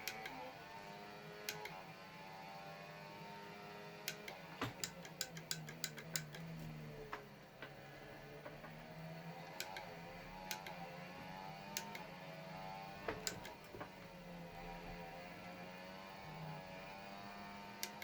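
Sharp, isolated plastic clicks from racing wheel paddle shifters snap out during gear changes in F1 24, sometimes singly and sometimes in quick bursts, over the game's quiet engine drone.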